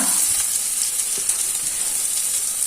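Onions fry in a pan with a steady bright sizzle, close and even, with a few soft stirring scrapes underneath.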